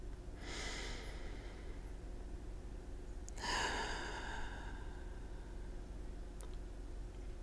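Slow, deep breaths during a guided meditation, two long airy inhalations over a steady background hiss, soft and close, with a faint tick near the end.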